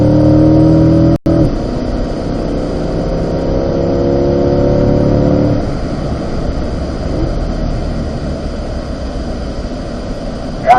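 A Chevrolet Corvette C8 on an autocross track roars and revs hard, then eases off as the engine note drops to a lower, steadier drone; no one speaks.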